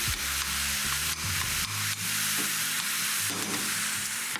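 Mince with onion, garlic and capsicum fries in a hot pan, giving a loud, steady sizzle throughout, broken by several sharp scrapes and stirs of the spoon and no talking.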